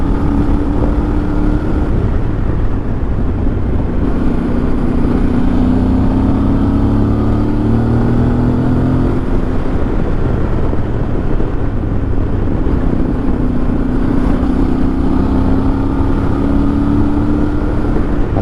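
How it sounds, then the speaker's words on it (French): Intake roar from a Voge 800 DSX Rally motorcycle accelerating on small mountain roads, a loud, close, continuous engine and intake drone that rises and falls through gear changes, with heavy wind rush and no talking. "En plus ce son là, on entend l'admission qui est juste derrière quand on accélère."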